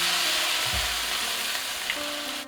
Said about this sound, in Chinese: 把鱼煎透可以更好的去除扁鱼的土腥味。